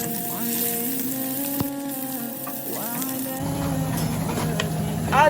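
Onion hits about 50 ml of hot oil in a pan for a fried pepper sauce, producing a continuous close sizzle that grows busier and louder partway through, with a faint tonal hum in the background.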